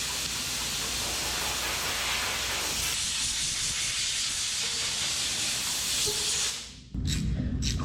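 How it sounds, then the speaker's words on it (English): Compressed air blasting onto the oil pan of a 1976 GMC truck engine, a loud continuous hiss that cuts out briefly near the end, then resumes. "We're probably going to try to take some air pressure to this."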